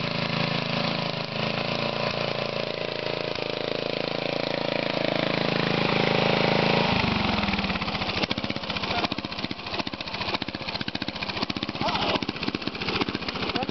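A homemade ATLM vehicle's engine runs at its first start, a steady droning idle that shifts partway through into a rougher, rapid chugging pulse, loud and close throughout.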